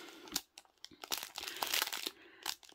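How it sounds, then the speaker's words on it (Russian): A flat plush squirrel toy in a red hat and green scarf, with a garland on its tail, rustles and crinkles in close, irregular bursts with short pauses, fairly quiet throughout. "Бельчонок шуршит, он не пищит."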